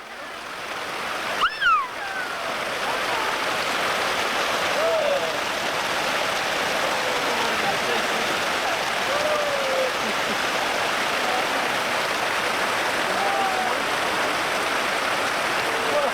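Broadband rushing water with people splashing and playing in a warm stream in Costa Rica, a steady wash throughout with a brief louder splash early on and faint voices calling in the background.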